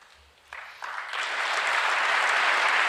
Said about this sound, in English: Why are the Democrats clapping?